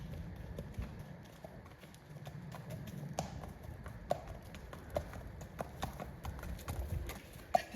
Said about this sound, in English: Hello, a beautiful horse.